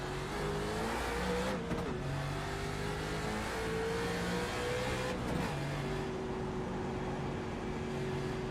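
A NASCAR race car engine in a racing video game screams at over 11,000 RPM, its pitch climbing and dropping through gear shifts in a continuous loud drone, with no voices.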